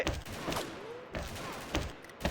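Gunfire in an XShot team match, with several sharp shots in bursts spread across a short stretch, fairly loud and near, with no voices.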